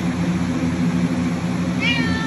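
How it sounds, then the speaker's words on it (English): A cat gives one brief meow near the end, set against a constant low droning background. "Meow. Little meow."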